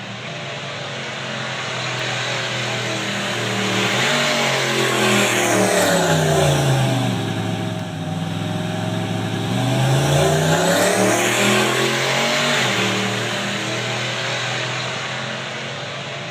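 A GTO and a Foxbody Mustang with a stock 302 drag race down the strip, engines screaming as they approach, pass and fade, then a second loud pass-by follows, with no talking.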